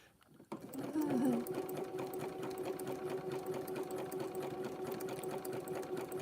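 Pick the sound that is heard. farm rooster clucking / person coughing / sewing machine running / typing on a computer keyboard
sewing machine running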